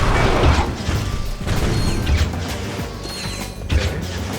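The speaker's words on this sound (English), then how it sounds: "Press circle to fire your lancer." Lancer gun firing in the PlayStation 2 game Ratchet and Clank Going Commando, a dense run of loud mechanical shots and impacts layered over game sound effects, continuous with brief swells.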